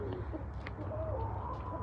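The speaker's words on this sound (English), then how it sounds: "Oh, the parrots." Parrots at an exotic animal ranch give short, faint chirping calls over a steady low background hum.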